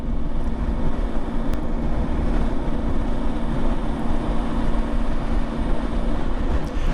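A Triumph 955i three-cylinder motorcycle engine chugs steadily at about 2,000 revs, a loud, constant low drone mixed with wind rush heard while riding.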